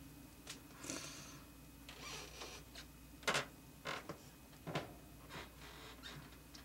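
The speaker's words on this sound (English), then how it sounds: "Every video you guys get to hear the squeaky floor upstairs." Faint creaks and soft knocks from a squeaky wooden floor upstairs in an old house, scattered irregularly as someone walks overhead, distant and quiet against a low room hum.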